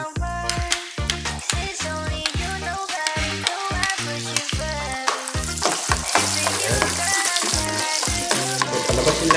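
Garlic fries in a pan with loud, close sizzling and crackling, punctuated by rhythmic scraping strokes of a spatula stirring it.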